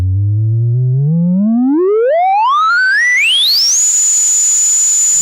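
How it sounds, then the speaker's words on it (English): A self-oscillating MS-20 style filter on a DIY modular synth, the late MS-20 HP and LP VCF design, sweeps its resonance tone steadily upward from a low hum to a piercing high whine. The tone then holds steady, loud and alone. "And now we only have the resonance sine wave"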